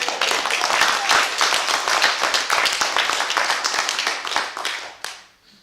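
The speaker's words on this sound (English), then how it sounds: "Big round of applause." Audience applause breaks out at the 2019 Tripwire Awards ceremony as a winner is announced, a dense, steady roar of many clapping hands that holds for several seconds and then tapers off quickly at the end.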